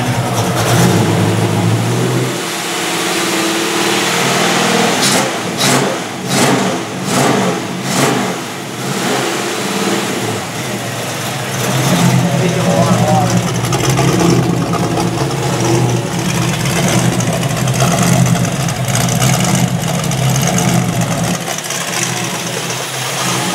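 A Porsche engine idles and then revs repeatedly, loud and close, with several quick blips of the throttle followed by longer sustained revving over a rough mechanical rumble.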